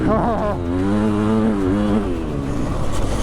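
An old two-stroke 500 dirt bike engine racing nearby, its loud buzzing pitch rising and falling as it revs through a turn, with voices talking over it.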